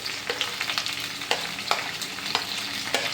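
Garlic, shallots, curry leaves, green chilli and ginger sauté in hot oil, giving a steady close sizzle with frequent sharp spatula scrapes and stirring clicks against the pan.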